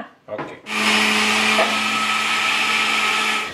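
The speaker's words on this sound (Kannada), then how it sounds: "ಈಗ ರುಬ್ಕೊಳ್ಳೋಣ" A mixer grinder starts up with a brief stutter, then whirs in a loud, steady, close-up hum while grinding masala, chilli powder and black salt.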